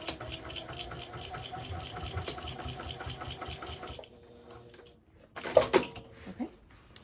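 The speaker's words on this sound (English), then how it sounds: "I'm going to get it underneath the machine here, and at 1/8 of an inch, I'm going to sew across and then back stitch and then back across" A sewing machine runs steadily up close, stitching across a tote bag and back stitching, then stops, followed by faint handling noises and a brief clunk.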